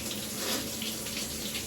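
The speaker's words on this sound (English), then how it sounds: "So I'm just letting that heat up" A bathroom tap runs continuously, a steady, soft hiss of flowing water left on to heat up, heard close with no talk.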